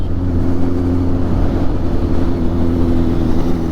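A 2023 Kawasaki Z900 motorcycle idles steadily up close, its Mivv GP Pro aftermarket exhaust with dB killer removed giving a deep, even, throbbing drone with no talking.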